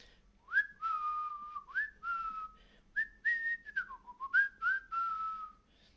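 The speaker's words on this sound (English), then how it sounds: "I think I might have a little whistle." A person whistles a short, bright tune of sliding, warbling notes, close and clear, alone over a faint low background hum.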